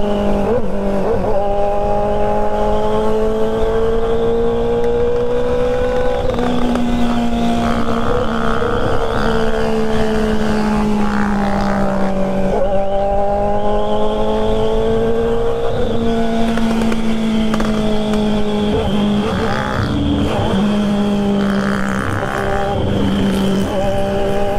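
A Honda Hornet motorcycle with a bare exhaust pipe rides at night, its engine droning loud and close with rising and falling revs and gear changes throughout.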